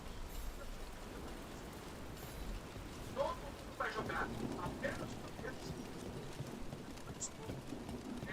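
Steady rain hiss fills a stormy scene in the video game Dragon Age: The Veilguard, with a soft rumble of thunder and scattered patter, while a character speaks briefly over it.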